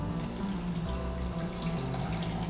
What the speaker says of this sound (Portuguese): Então agora a gente vai acrescentar a água aqui